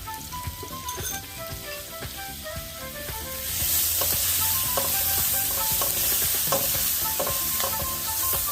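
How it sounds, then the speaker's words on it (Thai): Pounded chili and garlic fry in vegetable oil for a Thai stir-fry of pork ear with bamboo shoots. Stirring clatter comes first, then a louder, dense sizzle takes over midway and stays close and continuous. "ประมาณ 5 ช้อนโต๊ะลงไปผัดกับน้ำมันพืชประมาณ 3 ช้อนโต๊ะให้หอมค่ะ"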